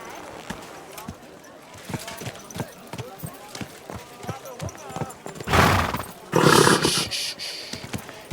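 A horse in the video game Kingdom Come: Deliverance 2 clip-clops along at a steady walking rhythm, with a louder rush of sound and snorting near the end, all fairly close.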